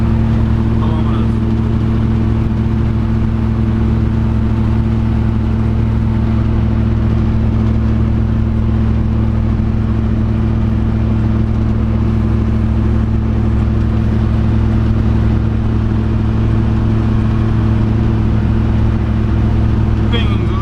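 Old Toyota Dyna truck with a high-mileage engine and slight pinging, steady droning engine and road noise heard from inside the cab throughout, constant and loud.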